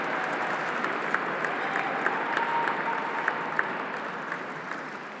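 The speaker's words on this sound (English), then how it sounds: "Please give them a big round of applause." Steady applause from a dinner audience at an annual fundraising dinner, moderately distant and even, with a few sharper individual claps popping out above the wash.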